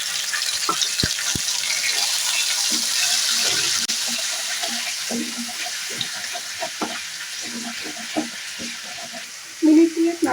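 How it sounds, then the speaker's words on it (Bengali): Onion paste frying in oil with cumin and bay leaf in a pan for catering-style doi katla fish, with a continuous close sizzle broken by scraping stirs and clinks of a spatula, no voices. "দু তিন সেকেন্ড পর্যন্ত একটু নাড়ি চাড়ি নিয়ে পেঁয়াজ বাটাটা দিয়ে দেবো"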